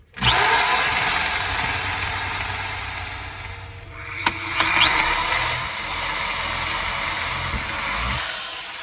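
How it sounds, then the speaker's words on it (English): A power drill bores a 3/4 inch hole for a water line aboard a sailboat. It gives a loud, steady, close whine that breaks off briefly midway, then runs on before stopping. "Gonna drill a 3/4 inch hole for the water line."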